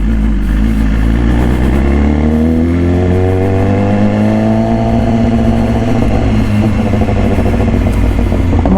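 A 2018 BMW S1000RR in Racing Red with an Austin Racing exhaust revs loudly and close up, the engine note rising smoothly in pitch as it accelerates, then holding a strong, steady roar.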